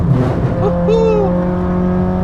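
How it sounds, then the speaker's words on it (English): A Nissan S15 engine pulling at full throttle downhill on the Nürburgring, a steady loud in-car drone with rising engine pitch, heard under a voice talking. "Just a gentle tap on the brake, flat on the gas, because it has no power to spin the wheels anyway."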